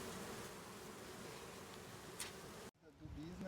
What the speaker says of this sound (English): These bees are going to make some wonderful honey.